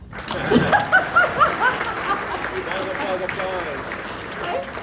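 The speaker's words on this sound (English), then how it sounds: "Applause." Audience applause at an elementary school graduation ceremony, uneven clapping that peaks early and thins out, with a voice talking over the start.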